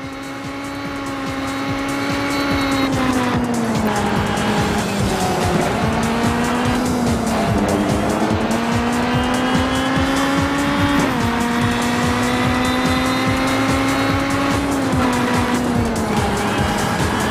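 A race car in the Real Racing HD iPad game drones at high revs, the engine pitch rising and dipping with gear changes while tires squeal, loud and continuous from start to finish.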